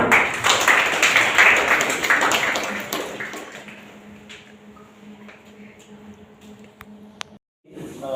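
Audience applause at a Kannada cultural program, dense clapping for the first three seconds that thins into scattered claps and fades, leaving quiet room tone.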